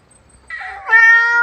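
A temple cat at Wat Pong Chai in Chae Hom, Lampang, Thailand, meows loudly and close: a brief call followed by a longer, drawn-out meow in a quiet setting.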